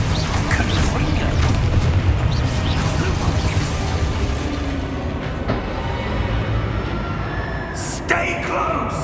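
A Confringo spell in the Hogwarts Legacy video game sets off deep explosive booms and rumbling blasts alongside spoken battle shouts, ending with brighter magical bursts.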